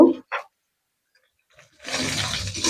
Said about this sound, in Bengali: পানি দিয়ে দিব